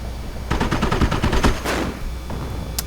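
Video game combat: a Panzer IV fires on an M8, and a rapid burst of gunfire rattles out over about a second. A louder impact follows, then the battle noise fades.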